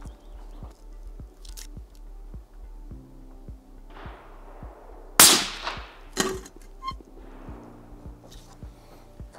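A single sharp rifle shot rings out loud and close at an outdoor range where the rifle carries an InfiRay Tube TH50 V2 thermal scope, followed by a short trailing echo and quieter clicks and handling noises.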